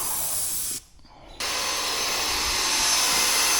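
A Magnum X5 airless paint sprayer runs with a loud, steady, broadband hiss that drops out briefly near the start, then returns just as strong and continues without voices.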